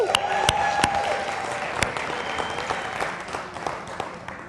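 A church congregation bursts into lively applause, with a few sharp louder claps and an excited vocal whoop near the start. The clapping gradually eases over a few seconds.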